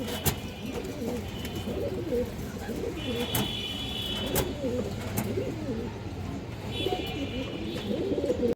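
Pigeons coo repeatedly in a low, throaty murmur at a pigeon sale, several birds overlapping steadily, with faint higher chirps now and then over a busy background.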